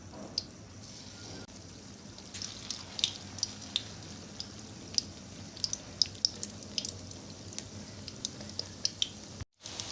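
Small egg and potato pakoras frying in hot oil, a low continuous sizzle broken by frequent sharp pops and crackles, close and fairly quiet, with no one speaking.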